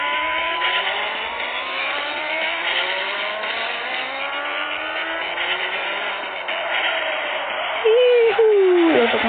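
Lamborghini Aventador engine in a drift and driving simulator game, a high revving whine climbing and dipping steadily, ending in a sharp tire squeal, with faint talk underneath.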